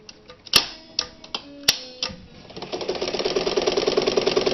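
Japanese-made Calanda sewing machine built for Pfaff: a few sharp mechanical clicks and knocks, then the motor starts and stitches in a steady, fast rhythmic whir, close and loud with no talking.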